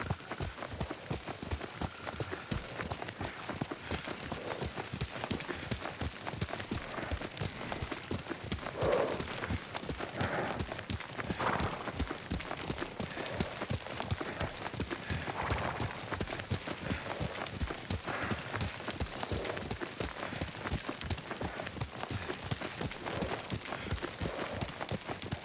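Horse hooves in the Ghost of Tsushima video game clop in a steady, rapid rhythm while riding, continuous and moderately loud across the whole stretch, with faint voices occasionally over the top.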